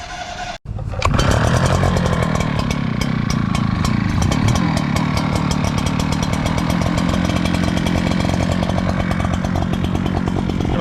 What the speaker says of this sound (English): Warm up the leaf blower before we start beating on it.